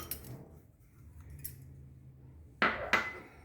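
A potato mixture with breadcrumbs is mixed in a bowl, with a low background hum and then two sharp, close metallic clinks of a spoon against the bowl near the end.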